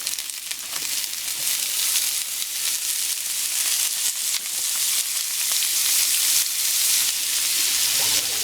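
Sausage and onions fry in an oiled pan for chicken bog, giving a dense, even sizzle that holds steady and grows slightly louder toward the end, close up with no talking.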